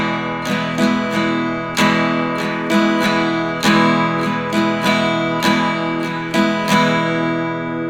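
Acoustic guitar strummed in a Latin-style 3/4 pattern, bright chords struck in a steady down-down-up rhythm with crisp attacks, close and clear with no talking.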